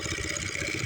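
An old Jari mower engine idles steadily close by, a continuous rough putter holding an even level throughout with no voices.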